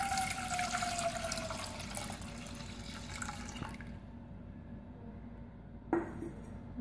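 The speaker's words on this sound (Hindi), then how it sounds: "सबसे पहले दूध शामिल करेंगे।" Milk poured into a pan while making custard for a fruit trifle, a steady liquid stream that runs close and alone for several seconds, then stops, with a faint clink near the end.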